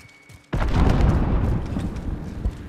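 Grenade detonating in Call of Duty: Modern Warfare, a sudden loud boom after a quiet lead-in, followed by a long rumbling decay with scattered game noise.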